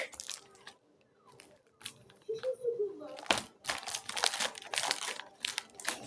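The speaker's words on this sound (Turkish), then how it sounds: "Böyle bir poşet oldu ama poşeti süsleyeceğim ben." Close crinkling and crunching of a plastic bag being handled for decorating as a gift, in uneven bursts that grow busier and louder toward the end, with a voice briefly heard.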